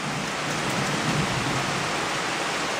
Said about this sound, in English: I don't know if you can hear all that, but it is really raining.